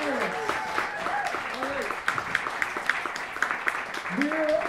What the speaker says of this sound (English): Big round of applause for our parents